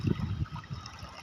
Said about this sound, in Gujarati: આખું પાણી ભરી દઈએ